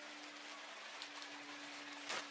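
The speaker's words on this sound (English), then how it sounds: "it's raining now." Steady rain falling outdoors near a pond, a soft continuous hiss with a faint constant hum beneath it and a brief louder splash near the end, no voices.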